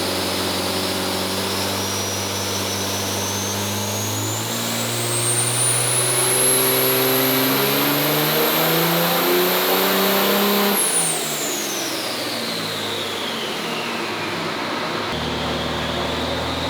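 A 1992 Ford truck fitted with a 2011 Cummins diesel engine and Allison transmission revs up steadily through rising pitch, holds high, then drops off sharply, loud and close with a whining harmonic overhead.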